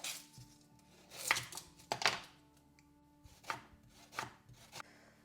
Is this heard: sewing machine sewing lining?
no